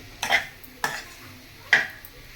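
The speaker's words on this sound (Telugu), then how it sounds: "ఇవన్నీ ఒకసారి కలిపేసుకుందాం మళ్ళీ" A spoon stirs mutton liver curry in a pan, making three brief scraping clinks spaced apart, with a faint sizzle between them.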